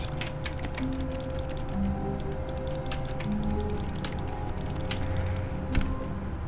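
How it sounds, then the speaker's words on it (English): A computer mouse clicks and scrolls during play of The Stanley Parable, with sparse, sharp clicks spread irregularly over a faint steady hum, close and quiet, with no speech. "Clicking, right clicking, scrolling."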